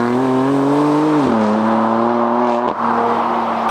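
A BMW M4 engine pulls loudly and close while the car drives on the road, with its note rising and dropping at two quick shifts over a few seconds.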